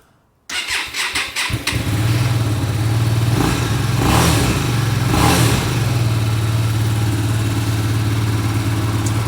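A Hyosung GV250 motorcycle that has sat unused for over a year cranks briefly, catches and starts, then settles into a loud, steady idle with a couple of blips of revving, close by and with no talk.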